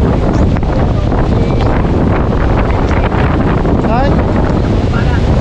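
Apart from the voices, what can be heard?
strong wind during typhoon Uwan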